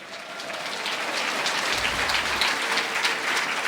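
A church congregation in Sucre, Bolivia applauds, a broad, rain-like wash of many hands clapping that builds slightly and holds steady at a moderate distance.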